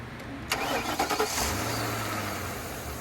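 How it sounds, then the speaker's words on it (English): A 2010 Mercury Grand Marquis engine cranks over with a brief starter whir, catches, and then settles into a steady low idle close by. "I went ahead and put the cap back on and started the engine."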